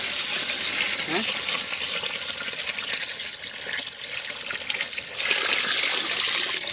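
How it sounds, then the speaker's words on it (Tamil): Water pours steadily into a pot of rice, about one and a half litres for a kilo, in an outdoor village kitchen, a continuous close trickle and splash that swells louder near the end. "ஒரு கிலோ அரிசிக்கு தண்ணி ஒன்றரை லிட்டர் தண்ணி"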